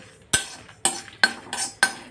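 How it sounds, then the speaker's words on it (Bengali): Spoon stirring dry spices (dry red chilli, cumin and fennel) in a kadai over low gas, five sharp metallic scrapes and clinks at a steady rhythm, close and clear with no talking. "আমি সব একবারে দিয়ে এই যে নেড়ে চেড়ে নিচ্ছি।"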